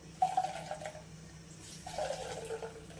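Water pours into a container of sol kadhi in two short bursts, a steady splashing trickle with a low hum underneath.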